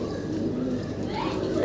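A male pigeon coos in a pigeon loft, soft throaty calls repeating close by over a steady background of other birds and faint farm noise.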